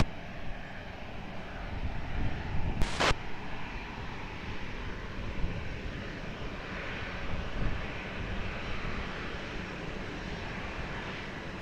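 An American airliner takes off from runway 20 at Lisbon Airport with a steady, broad engine roar at moderate distance. One brief sharp crackle cuts in early, and no voices are heard.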